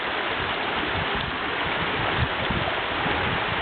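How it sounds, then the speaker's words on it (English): River water rushes steadily during a rafting trip in Jamaica, a dense, continuous broadband wash that stays close and loud with no talk throughout. "Moving down the river on a Sunday afternoon"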